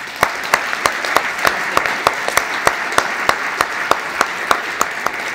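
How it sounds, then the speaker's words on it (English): A conference keynote audience applauds for Jamal, a steady, fairly loud wash of clapping with distinct sharp claps punctuating it, continuous for several seconds with no talk over it. "So I'd like to everyone to give a round of applause for Jamal."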